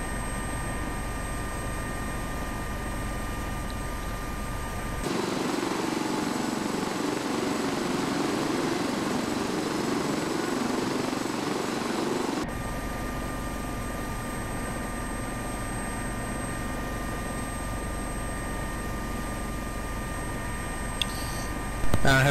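An AS365 helicopter in the P3D flight simulator holds a steady, continuous turbine and rotor drone that grows louder and fuller for several seconds in the middle, then settles back to an even hum. There is no talking.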